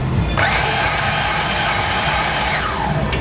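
An electric grease gun whirs steadily as it pumps grease into a sealed fitting on a Gravely Pro-Stance mower, a loud close motor drone that starts abruptly and runs continuously for about three seconds.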